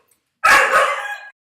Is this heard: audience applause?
no